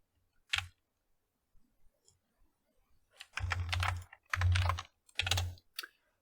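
Typing on a computer keyboard, heard as a single early click followed by several short bursts of rapid keystrokes, close and fairly quiet.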